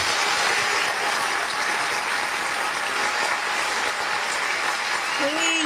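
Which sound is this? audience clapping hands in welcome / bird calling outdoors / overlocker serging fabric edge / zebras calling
audience clapping hands in welcome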